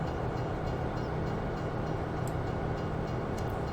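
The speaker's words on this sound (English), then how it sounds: "Let's jump in the train and see if we can now load the train." Train rolling along in Farming Simulator 17, a steady broadband rumble of wagons and engine with no breaks or horn, continuous and fairly loud throughout.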